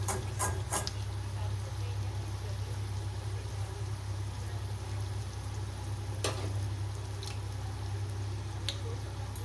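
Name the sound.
vadas frying in oil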